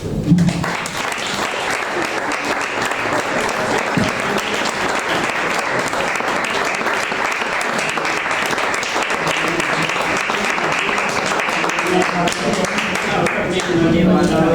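Sustained audience applause at a poetry reading event, a dense, steady wash of many hands clapping that holds strong for the whole stretch without letting up.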